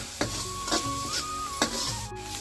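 Masala for chicken curry fries in a pan with a low sizzle, while a few distinct scraping strokes of a spoon cut through, alongside a thin steady hum.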